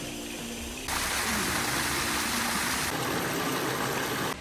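Several very small waterfalls in the bush make a constant broadband rush of flowing water, close and steady, with the texture shifting slightly partway through.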